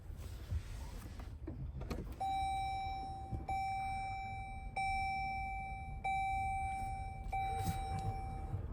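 A 2025 Chrysler Pacifica Hybrid S Appearance minivan powering on, giving a repeating electronic chime that sounds about five times at a steady pace over a quiet cabin background.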